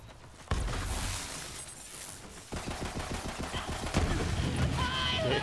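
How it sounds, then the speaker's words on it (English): Borderlands 3 gunfire with explosions, loud rapid bursts of shots and blasts in several volleys over a few seconds, with game effects crackling underneath. "The explosions are just awesome with this gun."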